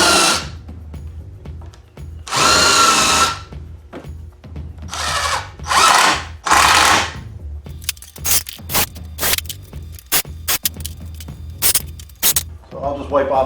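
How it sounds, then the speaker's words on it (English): A drill fitted with a countersink bit bores pilot holes in wood for a raised garden bed on legs, giving several short, loud whirring bursts separated by pauses and sharp clicks. "Drilling pilot holes help prevent the wood from splitting, and using this countersink bit also helps wood from splitting"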